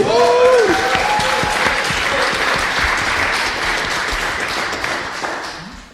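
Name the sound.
audience applause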